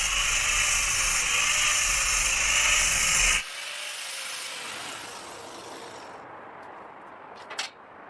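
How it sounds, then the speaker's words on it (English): An angle grinder with a flap disc grinds paint off a metal gate frame, a loud, close, steady high-pitched abrasive whine for about three seconds that then cuts off into quieter scraping and handling noise. "Grind it down a little bit with the flap disc so when you weld, it could get a nice looking weld."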